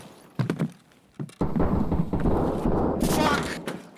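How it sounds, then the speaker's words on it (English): Shotgun fire in Escape From Tarkov: sharp close blasts and heavy thuds, then a dense burst of gunfire noise, with players talking over the action. "Fucking shotgun."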